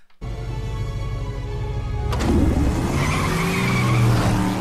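Tires squeal as a car skids in an animated Batman show, a sustained loud screech over engine roar that swells louder halfway through and holds to the end.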